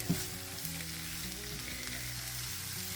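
Onion frying in a thin dab of olive oil in a pan, being stirred: a steady close sizzle runs throughout with a brief scraping knock near the start, no voices.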